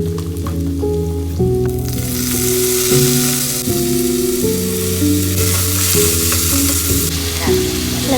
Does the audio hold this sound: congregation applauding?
no